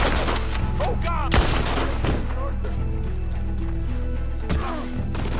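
Gunfire in Red Dead Redemption 2 gameplay: repeated loud shots crack out over a dense bed of game music and sound effects, with voices speaking now and then.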